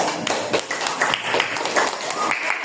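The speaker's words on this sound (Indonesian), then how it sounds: "Yuk kita beri tepuk tangan untuk kelompok yang sudah maju." Classroom applause from students clapping for a group that just presented, a dense patter of many hands running steadily throughout, with a few voices mixed in.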